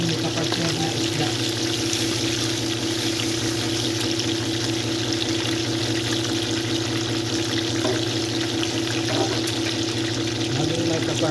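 Fish frying in a pan at home, a steady sizzle with bubbling oil that holds at an even level throughout, close and continuous with no talk over it.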